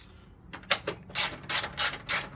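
A ratchet tightening the battery hold-down bolt on a Toyota Tarago, a few sharp clicks followed by steady rhythmic ratcheting bursts, close up and clear with no voices.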